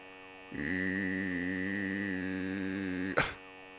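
Police sirens from the racing game Need for Speed Most Wanted (2005) wail in a steady, sustained electronic tone that starts abruptly and holds, then cuts off with a short harsh burst.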